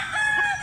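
A rooster crows once in a short, close, fairly loud call.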